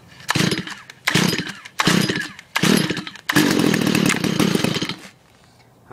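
Stihl FS 45 string trimmer being pull-started: four short bursts of engine sputter from cord pulls, then a longer rough run of the small two-stroke engine catching briefly before cutting out, close and loud with no talking.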